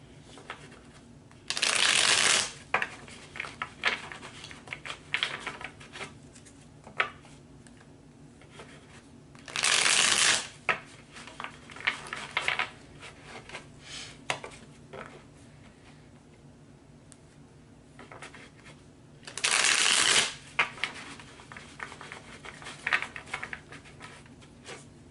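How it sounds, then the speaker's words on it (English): Tarot cards are riffled in three separate quick shuffles, each a crisp, close burst of about a second, spaced well apart with soft handling noises in between. "Good shuffle right there"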